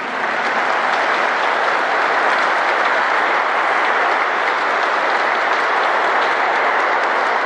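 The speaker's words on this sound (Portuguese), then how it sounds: "Vamos dar uma salva de palmas" Sustained, dense applause from a large audience during a bishop's homily at an outdoor religious gathering for the 26th Grito dos Excluídos in Brazil, steady and loud throughout with no voices rising above it.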